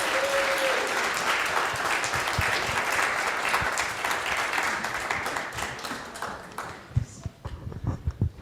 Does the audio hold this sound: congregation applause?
yes